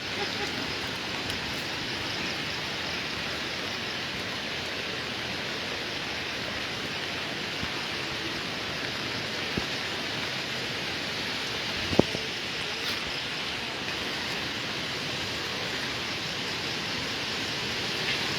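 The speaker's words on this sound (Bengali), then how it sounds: "কখনো বৃষ্টি কমছে আবার কখনো বাড়ছে" Rain falls during Cyclone Remal as a steady, dense broadband hiss that stays even for the whole stretch, with a faint thump or two and no voices.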